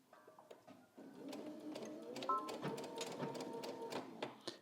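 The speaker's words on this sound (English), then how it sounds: "I'm going to head to the machine, and I'm going to make sure that I'm stitching right where that pin is all the way down" A sewing machine stitches a seam on a button-up shirt, starting with a few short bursts and then settling into a steady, close, whirring run of needle strokes.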